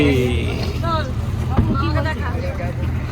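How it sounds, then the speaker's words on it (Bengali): A tourist boat sets off on a lake near Ghatsila with a loud, continuous low engine drone and wind rush, while people chatter and talk over it. "চলো একটু এবার আমাদের বোট ছাড়বে এবারে।"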